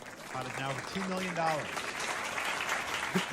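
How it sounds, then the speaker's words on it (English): A poker audience cheers and applauds during a high-stakes televised hand, a steady crowd roar running under a voice. "The audience fucking cheering this on."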